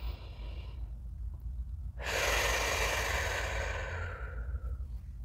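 Deep breathing during a guided hape session: a quiet exhale, then a long, loud, airy breath in and out lasting a few seconds, close to the mic.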